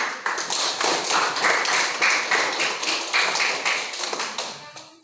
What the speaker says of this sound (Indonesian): jadi kita beri aplaus pada kelompok